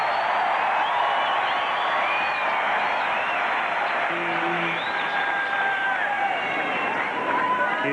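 Spectators at the 1997 US Open fourth-round tennis match between Rafter and Agassi applaud and cheer, a dense, sustained crowd roar heard from a distance in the stadium.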